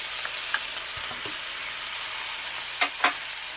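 Garlic sizzles in a pan alongside browned ingredients, a soft, steady frying hiss with a few faint clinks and stirring scrapes, fairly quiet and without talk.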